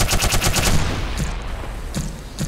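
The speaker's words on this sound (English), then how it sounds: "Oh, they are shooting me." Black Mesa gunfire comes in a quick burst of close automatic shots at the start, then a few scattered single shots follow, loud and sharp.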